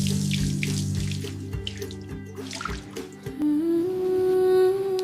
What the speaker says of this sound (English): I'm washing the chicken really well with clean water before moving on